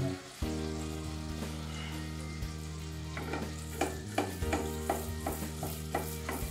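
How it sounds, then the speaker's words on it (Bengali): Malpua batter sizzling in hot oil, a steady loud fry hiss throughout with a low continuous hum beneath, joined midway by repeated light clinks and scrapes of a utensil against the pan. "একটুখানি ব্যাটার দিয়ে দেখে নেওয়া হচ্ছে তেলটা ভালো করে গরম হয়েছে নাকি"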